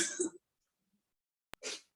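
A person sneezes close to the microphone: a short, sharp burst, then a quiet pause, a click and a second breathy burst.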